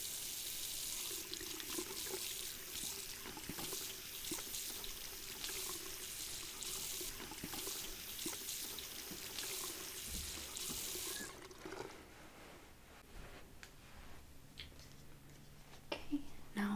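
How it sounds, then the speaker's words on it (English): Running water rinses hair during a hair wash, a steady close splashing hiss for most of the time, then easing into quieter trickles and faint handling sounds. "We're gonna just rinse that for you now."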